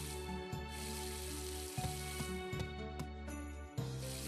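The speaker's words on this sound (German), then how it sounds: "Immer schön weiter gießen." Watering a field with a watering can in the Harvest Moon video game produces repeated short hissing pours separated by brief breaks, set against a looping tonal game melody.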